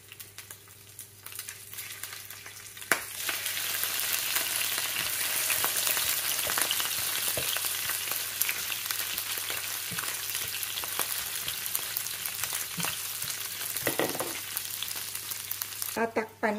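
Food is sautéed in a pan still coated with the oil left from frying shrimp. It gives a steady, loud sizzle that runs throughout, with scattered stirring scrapes and utensil clicks.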